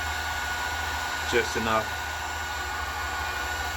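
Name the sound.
heat gun heating a fuel line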